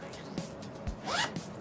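A zipper on a pouch for Sony WI-1000X headphones is pulled, giving a quick close rasp in a quiet room, with some faint handling noise around it.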